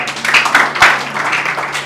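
Wedding guests applauding the bride and groom, a short burst of clapping from a crowd at close range, steady through the moment with a sharp slap near the middle.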